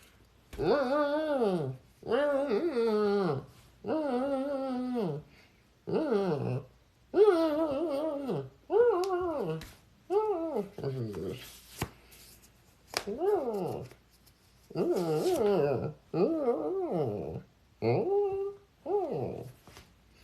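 A voice imitates a dog, a long series of close, loud whimpering whines and growly moans in repeated bursts with short gaps between them.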